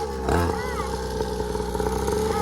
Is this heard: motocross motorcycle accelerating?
yes